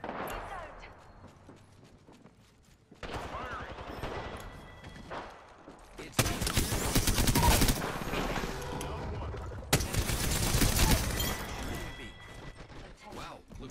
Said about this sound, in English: boys are shooting at me